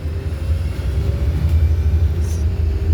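A 2020 MAN Lion's Golden Arrow city bus drives along, its engine a steady low rumble and drone that holds at an even loudness throughout, with no voices heard.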